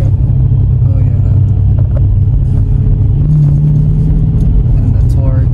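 Deep, steady rumble of a Dodge Challenger Scat Pack engine idling nearby, with people talking over it throughout.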